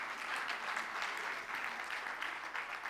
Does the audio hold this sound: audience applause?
yes